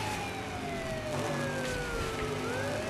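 Police car siren in the racing video game Burnout, a steady wailing tone sweeping slowly downward, continuous and fairly loud over engine and road noise throughout.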